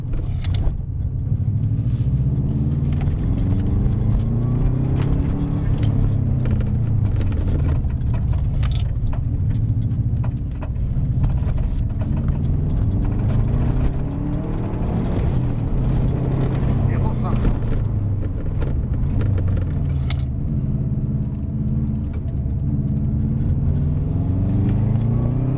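A Subaru Impreza rally car's engine revs and accelerates on a racing track, rising and falling through gear changes in a loud, continuous in-car drone, with an instructor talking over it.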